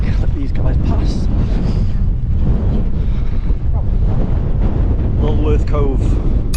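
Strong gusts buffet the microphone on a muddy coastal path along the Jurassic Coast near Lulworth Cove, a loud continuous low rumble of wind with someone speaking intermittently under it.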